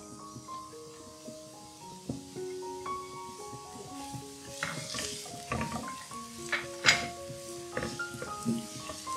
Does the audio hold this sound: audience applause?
no